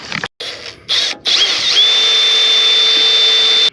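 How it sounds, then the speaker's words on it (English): A power drill fitted with a cheap step bit bores a hole while lights are installed on a rock crawler, starting in short bursts and then holding a loud, steady high whine for about two seconds. "Let's go drill a hole."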